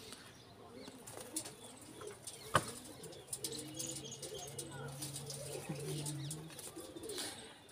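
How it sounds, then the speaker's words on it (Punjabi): A shah-eyed racing pigeon coos softly, with fluttering wings and scattered chirps, all faint and close. A single sharp click stands out early, and quiet background murmurs sit beneath it. "ਇਹ ਆ ਬਾਈ ਸ਼ਾਹ ਅੱਖਾ ਕਬੂਤਰ ਆਪਣਾ"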